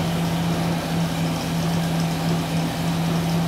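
Car engine running steadily at idle in a garage while its ignition timing is adjusted through a programmable timing control module, giving a continuous even hum with a firm low tone and no voices.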